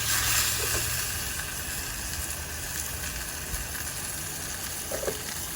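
Ribs sizzling on a grill inside an RV, a steady close hiss of frying fat with a few faint clicks from flipping.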